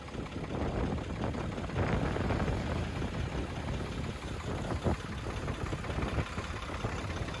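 A large truck engine idles steadily nearby, a low rumbling drone with slight knocking that continues throughout without talk.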